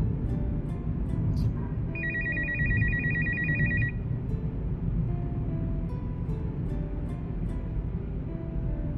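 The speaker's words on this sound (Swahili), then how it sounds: "sitaki kupokea simu yake" A phone rings with an incoming call, one bright warbling electronic ring burst over a steady low background hum, with faint clicks around it and no talking.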